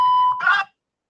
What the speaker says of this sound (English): Are the beeps that bad?